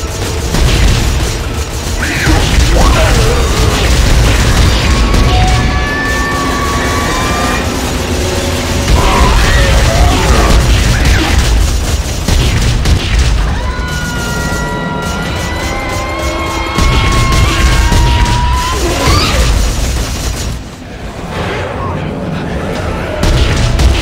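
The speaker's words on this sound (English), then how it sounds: "Force gun might not kill them all. But it knocks them back enough." Force gun blasts boom in Dead Space 3 co-op play, with heavy, loud bursts repeating amid dense game noise and mechanical clatter; voices seem to be present under the action.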